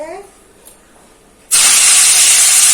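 A brief voice, a quiet pause, then a sudden loud sizzle as fish hits hot oil in a wok, hissing steadily and strongly until the end.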